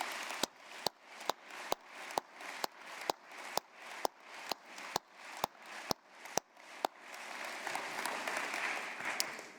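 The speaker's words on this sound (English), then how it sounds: "Please join me in giving them a round of applause." Audience applause at an award ceremony honoring the Entrepreneurial Company of the Year, heard as a run of loud, sharp claps at a steady rhythm that builds into a dense, sustained wash of clapping from a sizable crowd.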